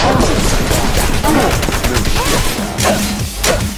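Dense gunfire in the video game Wanted: Dead fills the scene as continuous overlapping shots and bursts, loud and chaotic, with a voice shouting briefly underneath.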